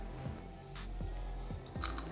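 Crispy homemade fried potatoes bitten and chewed close to the ear, with a few distinct crunchy bites and soft chewing between them, and no talking.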